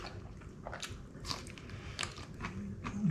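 Someone bites into and chews smoked white asparagus, producing several crisp, close crunches at irregular intervals over a quiet, faintly noisy background.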